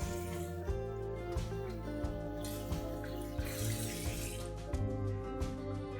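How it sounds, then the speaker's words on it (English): Water runs from a faucet while hands are washed with soap, a steady splashing stream with faint clinks and hand movements, and no talking. "wash your hands with soap and water"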